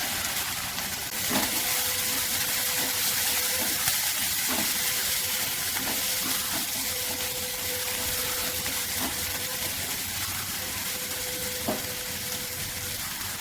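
Sliced onion fries in hot oil in a pan for a Bengali carrot and prawn dish, giving a steady, close hiss and sizzle that runs throughout with a few faint clinks, and no talking.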